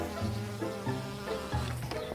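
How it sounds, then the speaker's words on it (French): Honeybees hum around the hives of an apiary, a continuous buzzing with pitches that shift and swell as individual bees pass close by, heard alone without talk. "Ici, vous voyez mon rucher. Là, c'est là où j'ai mes abeilles."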